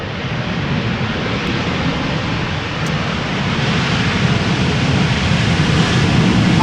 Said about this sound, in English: The 737 using the reverse thrust there.